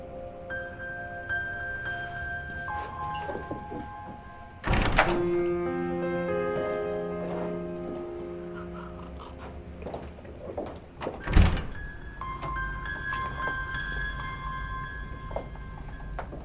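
A door is pulled shut in an office, giving two dull thuds several seconds apart under soft background music, with no talk.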